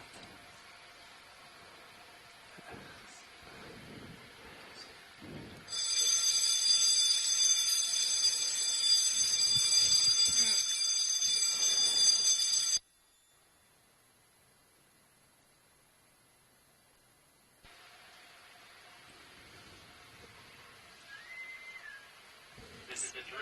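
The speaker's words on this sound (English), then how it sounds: "You're going to hear alarms" Fire drill alarm ringing, a loud steady harsh electronic tone that holds for several seconds over faint background noise, then cuts off abruptly into near silence before low ambient sound returns.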